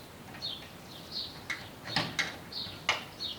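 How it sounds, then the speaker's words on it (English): A fish smoker door closing after king salmon is loaded, heard as several sharp clunks and clicks spread over a few seconds, with faint high chirps between them. "I'm going to close the door"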